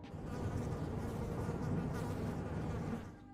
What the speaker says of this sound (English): it's hard to ignore the sound of buzzing flies hovering nearby